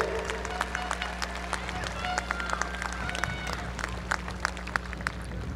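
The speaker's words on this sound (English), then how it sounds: "Let's give them a huge round of applause." Graduation ceremony audience applauding the top students of the class of 2023, a sustained crowd clapping with scattered sharp hand claps over a steady low hum and crowd murmur.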